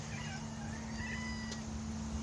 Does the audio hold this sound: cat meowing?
yes